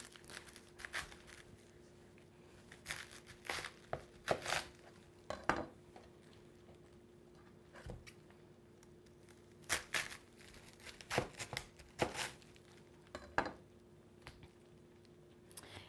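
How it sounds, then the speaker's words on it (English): A knife cuts through a fresh head of cabbage, giving crisp, crunchy slicing and tearing sounds in irregular bursts, close up, with no talking. "So I've got the cabbage, and I'm just going to cut a little bit of it"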